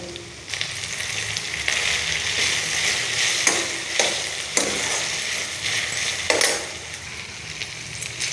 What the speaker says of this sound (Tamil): தண்ணியே விடாமல் எண்ணெயிலே நல்லா வதங்கணும்.